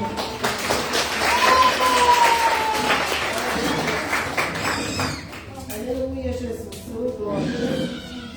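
A church congregation at a Portuguese-language evangelical service claps in praise, a broad, even applause lasting several seconds that thins out as voices take over near the end.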